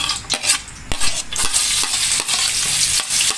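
Chopped garlic sizzles and spits in hot oil in a pan, a steady bright frying hiss broken by repeated scraping stirs of a utensil against the pan, close and fairly loud, with no voices.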